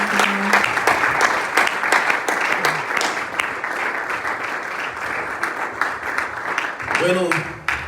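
A church congregation claps steadily in praise of the Lord, a dense, loud, continuous round of applause filling the room, with voices speaking over it near the end.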